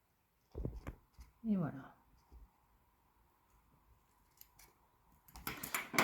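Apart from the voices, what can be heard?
scissors cutting plastic book cover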